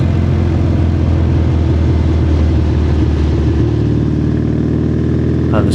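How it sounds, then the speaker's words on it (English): A Triumph Trophy motorcycle with a high-level exhaust drones loudly and steadily while riding along rural South Shropshire roads, its engine note shifting partway through. "It's a very different bike to the Bonnevilles, and but very enjoyable, and it's just so beautiful with that high level exhaust."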